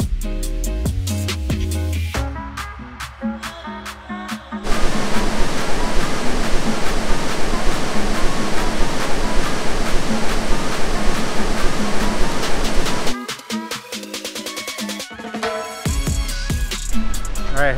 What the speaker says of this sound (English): The waterfall right over there.